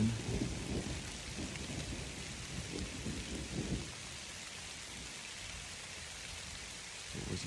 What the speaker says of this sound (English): It was not supposed to rain until tomorrow